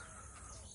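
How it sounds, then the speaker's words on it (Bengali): A bird, probably a crow, gives a single brief, faint caw at a goat farm in Jhargram in the early morning, set against quiet outdoor background. "দেখতে পাচ্ছ চারিদিক শান্ত আর পাখির ডাক খুবই ভালো।"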